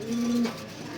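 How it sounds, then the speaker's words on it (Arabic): A pigeon gives one soft, low coo, close by and fairly quiet, then fades into faint background noise. "وادي كمان جوز حمام قاعدين على بيض اهم"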